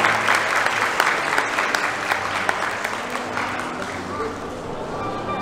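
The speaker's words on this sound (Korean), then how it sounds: "계속해서 큰 박수 부탁드립니다." Guests at a wedding ceremony applaud warmly for the bride and groom's bow to their parents, continuous close clapping from a crowd that gradually eases slightly, with some murmuring voices beneath.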